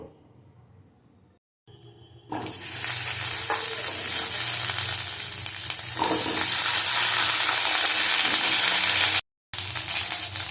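Hog plums (amra) hit hot mustard oil with black mustard seeds and dry red chillies, breaking into a loud, steady sizzle that fills the pan after a brief quiet start, with a short gap near the end.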